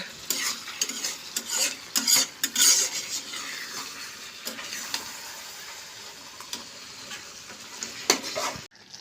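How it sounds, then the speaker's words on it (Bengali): Beef curry stirred lightly in a pan, with repeated clinks and scrapes of a utensil over a soft, steady sizzle, heard up close. "আর একবার মাংসটাকে নেড়ে দেবো হালকা করে"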